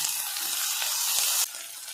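Steady sizzling hiss of onion and tomato sautéing in a hot pan for a dried-fish stir-fry, close and moderately loud, easing off slightly near the end.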